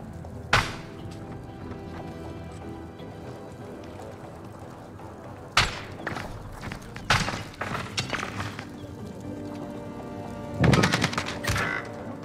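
Gunfire from the Call of Duty: Modern Warfare video game: sharp shots crack out around half a second and 5.5 seconds, then scattered bursts follow, and a heavy volley lands near 11 seconds over a steady din of game noise.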